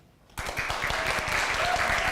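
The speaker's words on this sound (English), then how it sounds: "Clap your hands, everybody." Audience applause and clapping at a cabaret gala stage show, starting abruptly after a brief quiet and holding steady and dense as a crowd claps rhythmically throughout.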